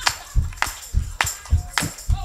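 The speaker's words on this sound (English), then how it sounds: "Let me hear those hand claps." A church congregation claps in a steady, driving rhythm, sharp hand claps alternating with deeper low thuds, about two beats per second, fairly close and loud.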